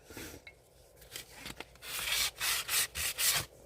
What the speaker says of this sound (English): I knew not to do this with this sandpaper.